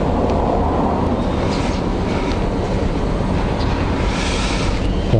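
A Honda CBR1000RR-R motorcycle engine runs steadily with a loud, dense exhaust rumble, a continuous close-up drone that holds level throughout with no talk over it.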